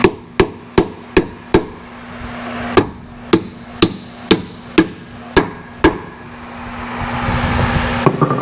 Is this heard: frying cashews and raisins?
no